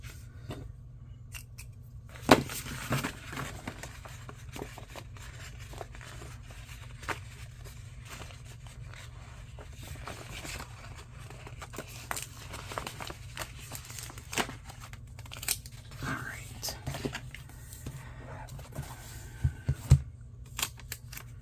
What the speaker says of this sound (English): I'm going to go ahead and trim this along the edge here